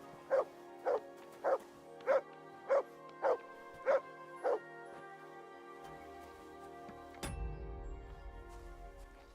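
A dog in the medieval role-playing game Kingdom Come: Deliverance 2 gives eight evenly spaced barks, close and clear. A louder thud follows, then a low rumbling sound.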